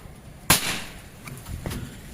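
A single sharp, close crack of a Predator Monel Biggame PCP air rifle shot at 3500 PSI with a 30 cm barrel, with a brief ringing tail, followed by faint clicks.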